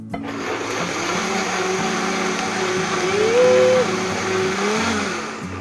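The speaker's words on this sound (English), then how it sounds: "now it's going straight in the blender" A kitchen blender purees pea and paneer curry sauce, a loud continuous motor whine and whir running the whole time, its pitch rising briefly midway, close by.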